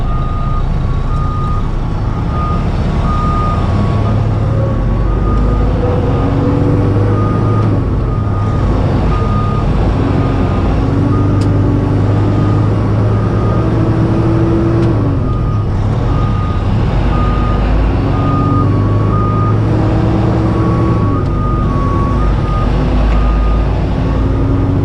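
A crane or heavy truck reverses beside a big rig hauling a 109,600 lb Terex recycle plant. Its backup alarm beeps steadily in a regular rhythm over a loud, constant diesel engine rumble for the whole stretch, with no talking.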